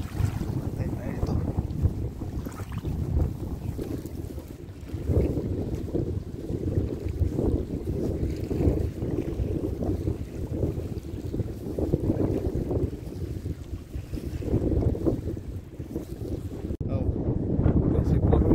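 Wind gusts out at sea buffet the microphone with a heavy, continuous low rumble that rises and falls in waves, while people talk faintly near a boat.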